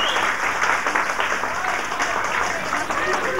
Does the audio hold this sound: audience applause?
yes